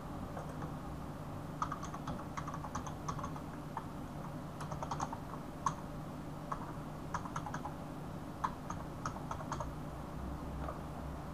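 Typing a username and password on a computer keyboard while logging in to a Moodle platform: a steady run of light, close key clicks in irregular bursts and short pauses, over a constant low background hum, with no talking.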